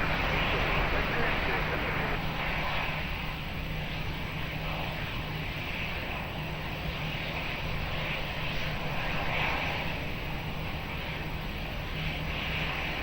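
An airliner drones steadily on approach to runway 20 at Lisbon Airport, a continuous, even engine roar with no clear break.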